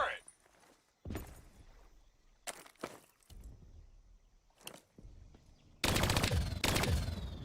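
Turret machine-gun fire in Call of Duty Black Ops 3, with scattered bursts at first and then a loud, sustained stream of rapid shots near the end over a low mechanical rumble.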